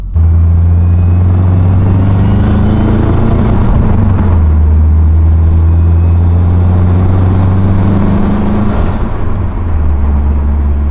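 A Subaru WRX on a casual cruise: a loud, steady engine drone with strong low harmonics that shift pitch as it changes gear around the four- and nine-second marks, heard from inside the car with no talking.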